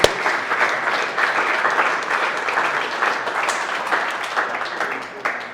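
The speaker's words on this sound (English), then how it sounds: "Give him a round of applause" Enthusiastic applause from an office team audience at an all-team update meeting, dense clapping at steady intensity for several seconds, with a voice faintly mixed in.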